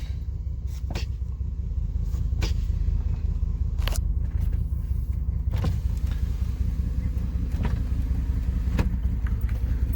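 A 1996 Chevrolet Suburban in limp mode rolls in reverse, its engine and drivetrain giving a steady low rumble throughout, with occasional sharp clicks and knocks from the cabin.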